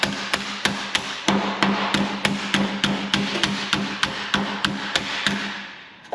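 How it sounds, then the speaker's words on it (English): Hammer strikes on sheet metal formed around a 17mm spanner to make a repair panel for a Ford Transit van, a steady run of about twenty sharp metallic taps ringing close and loud. "hit around that spanner"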